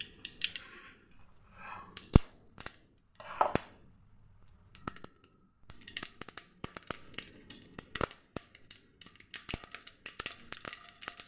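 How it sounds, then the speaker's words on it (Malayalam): Mustard seeds, dried red chillies, fenugreek and curry leaves fry in hot oil for sambar, giving scattered sharp pops and crackles in an otherwise quiet kitchen. "കടുകും മുളകും വറുത്തിടണം."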